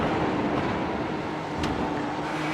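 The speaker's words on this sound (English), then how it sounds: "Yeah, our car sounds lovely." A GTE race car on track in a sim racing endurance event at Brands Hatch, a steady loud engine roar at close range with no talk.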